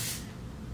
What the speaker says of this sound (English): So I'm gonna spray some of this even on the comb